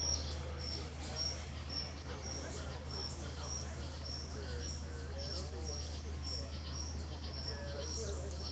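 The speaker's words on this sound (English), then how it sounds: "there must be like a million crickets out here" A great many crickets chirp outdoors at a street memorial site, their rapid pulsing trills repeating steadily at moderate distance over a low constant hum, with no voices.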